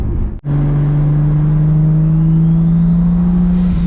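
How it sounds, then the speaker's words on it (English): A turbocharged Toyota Supra MKIV pulls hard after a brief gear-change dip, its steady loud engine drone climbing slowly with a rising turbo whistle layered over it, close inside the car. "that turbo spool. Isn't that beautiful or what?"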